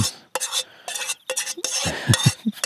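Spoon scraping and stirring cooked rice with sauce in a metal camp pot outdoors, a series of close, uneven scrapes and clinks with short pauses between strokes.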